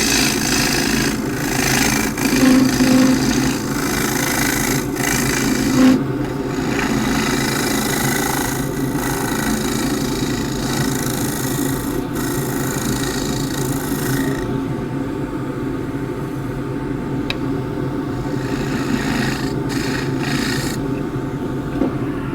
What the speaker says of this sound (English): Big bowl gouge this time.